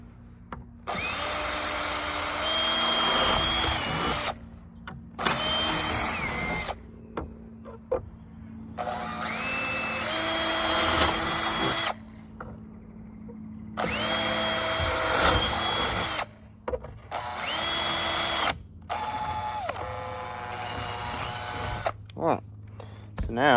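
A power drill bores holes through a boat hull in several long whining bursts separated by short pauses, close and loud.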